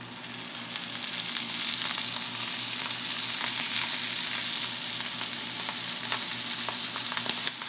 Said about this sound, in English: Let's put in the abalone steak now.